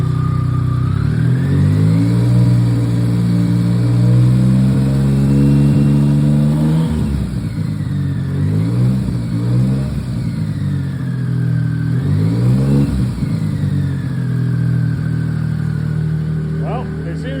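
A BMW K75 motorcycle engine being synchronized and idle-adjusted, droning steadily up close and then revved to higher speed in a few rising and falling surges over a continuous mechanical hum.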